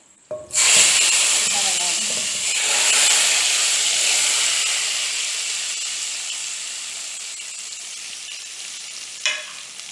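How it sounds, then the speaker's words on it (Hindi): Green and dried chillies hit hot oil with cumin for Punjabi kadhi pakora, a sharp sizzle bursting up and then hissing steadily, slowly fading, with a clink of a spoon near the end. "फिर हम इसके अंदर हरी मिर्चें, ये सूख मिर्चें डाल देंगे"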